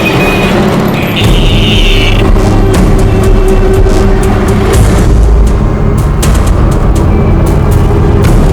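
A police car pulls away in a loud, steady low rumble of engine and road noise that carries through the whole stretch, with no voices.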